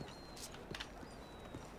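A horse's hooves clip-clop faintly and sparsely in a Wild West roleplay video game, a few soft, irregular hoofbeats against low background ambience.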